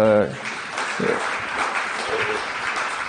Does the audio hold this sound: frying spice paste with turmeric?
no